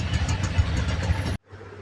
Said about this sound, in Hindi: ये देखिए कितना ट्रैफिक है।